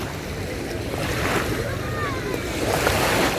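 Small, gentle sea waves lap at Saranda's city beach in Albania, a steady soft wash of surf with light wind buffeting close to the microphone.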